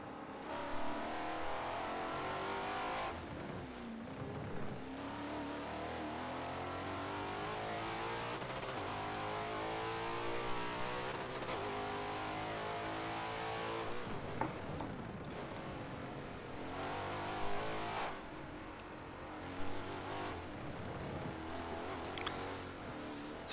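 Race car engines roaring during a sim racing endurance event at Indianapolis, with a steady engine drone rising and falling through gear shifts and revs, one car near and others passing, no talk.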